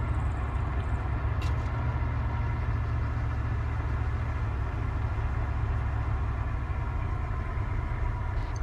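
An army vehicle's engine idles with a steady, unbroken low rumble and hum, close and constant throughout, with no talking.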